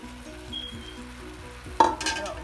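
Chopped onions land in two spoonfuls of hot olive oil and break into a sudden loud sizzle near the end, after a quieter stretch with steady background music.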